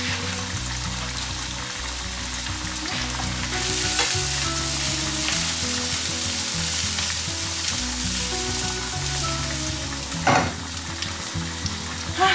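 Onions frying in a pan with salmon, a loud, steady close-up sizzle with faint stirring and scraping throughout and no talking.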